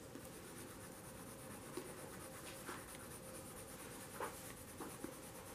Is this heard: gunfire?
no